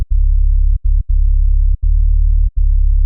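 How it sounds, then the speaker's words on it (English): An 808 bass sample with a pre-delay volume envelope: a deep, sustained sub-bass tone broken by several short silent gaps before each note, loud and dry with no talk. "So now, when I play the 808 sample,"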